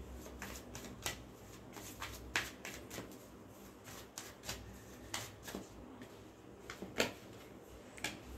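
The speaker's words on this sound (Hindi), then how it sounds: "चलिए एक और कार्ड लेते हैं।" Tarot cards shuffled and drawn by hand, a steady run of soft riffling snaps and brief slaps, close and fairly quiet, with no talk.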